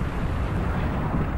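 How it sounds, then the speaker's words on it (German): A supernova sound effect of an exploding star: a deep, steady roaring rumble that fills the whole stretch at even loudness, with no talking. "Dann bricht der Kern auseinander und der Stern explodiert."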